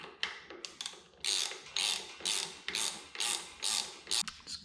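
Ratchet wrench tightening Loctite-coated bolts on a motorcycle brake lever: repeated bursts of close, loud clicking strokes, each a second or so long, with short pauses between.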